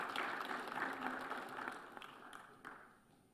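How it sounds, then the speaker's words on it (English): Audience applause at an intergenerational dialogue during the Commonwealth heads of government meeting in Kigali. A soft, even wash of many hands clapping from a distance, tapering off over a few seconds. "Another round of applause for the Excellencies."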